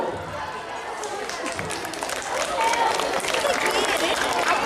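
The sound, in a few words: audience applause welcoming a guest on stage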